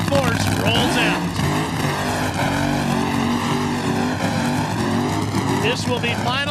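A drag racing funny car engine at the 1995 NHRA Winston Select Finals roars loudly and continuously, with a harsh rumbling tone, while an announcer talks over it.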